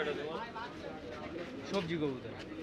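Giribaz pigeons coo softly amid the bustle of a crowded pigeon market in Saruliya, Bangladesh, with people talking nearby.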